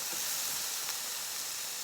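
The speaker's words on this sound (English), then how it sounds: "when you hear it sizzle like that, that's a saute" Peppers sautéing over high heat in a hot pan for a taco salad, making a steady, fairly loud hissing sizzle throughout with no talk.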